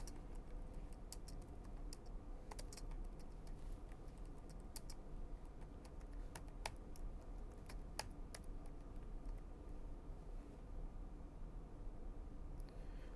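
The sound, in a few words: typing code on a computer keyboard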